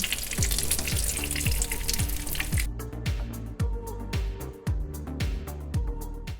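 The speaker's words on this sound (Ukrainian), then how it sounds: "Смажу я їх зовсім мало до золотистої скоринки і перевертаю на іншу сторону." Potato cutlets sizzle and crackle steadily in hot oil in a pan, close by, with soft scraping and clinks of a utensil now and then.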